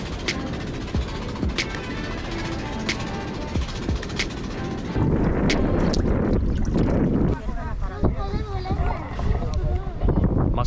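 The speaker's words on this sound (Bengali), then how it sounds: "নাফ নদী পাড়ি দিয়ে ধীরে ধীরে আমাদের ট্রলার পৌঁছে গেল বঙ্গোপসাগরের বুকে" A local wooden trawler crosses the Bay of Bengal toward Saint Martin's Island. Steady wind roar and rushing water surge continuously, growing louder and rougher halfway through, with the boat's rumble beneath.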